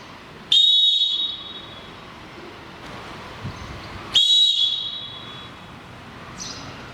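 A handball referee's whistle shrills twice, two loud, sustained blasts several seconds apart, with a faint short chirp near the end and no talking.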